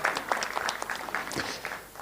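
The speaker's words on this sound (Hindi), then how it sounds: "रानू मुंडाल के लिए एक बार जोरदार तालियां हो जाए" A crowd at a live press conference claps for Ranu Mondal, a dense burst of applause that holds steady for about two seconds, close and lively.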